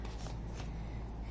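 Tarot cards being shuffled by hand, a soft, continuous papery riffle and slide heard close up and fairly quiet, without talk.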